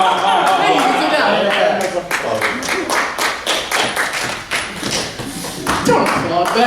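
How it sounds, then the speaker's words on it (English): At a stand-up comedy show, an audience claps in a lively, uneven burst of hand claps mixed with talking, fading slightly midway before picking up again. "Don't applaud that."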